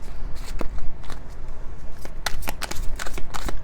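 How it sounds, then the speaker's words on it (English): Tarot cards shuffle close by in a series of quick riffling bursts with crisp papery slaps, irregular in rhythm and fairly loud. "Three cards for the collective angelic reading"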